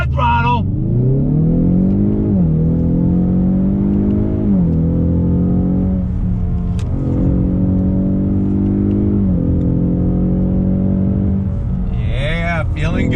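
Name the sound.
2020 Ford Mustang EcoBoost High Performance Pack engine accelerating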